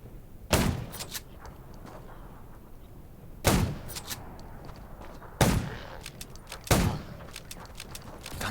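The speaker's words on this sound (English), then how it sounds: "Gunshots will attract." Four sharp gunshots ring out at irregular intervals in the video game Undawn, each a loud crack with a short echoing tail over a low background hum.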